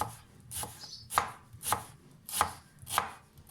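A knife slicing a shallot into thin rings on a board, five or six distinct crisp cuts at a steady, unhurried rhythm, close and clear with no talk.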